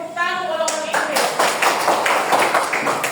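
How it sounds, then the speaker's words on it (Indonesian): A classroom of students claps for the English group, with a short burst of steady, fairly loud applause that follows a brief tonal sound and has voices mixed in. "tepuk tangan untuk orang-orang Inggris"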